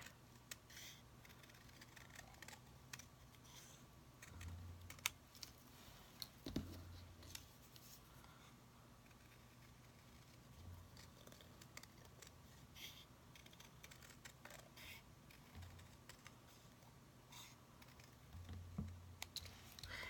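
Scissors snip through paper while a mouse ear is cut out for a corner bookmark, making quiet, close crisp clicks and rustles in irregular bursts over a faint steady hum.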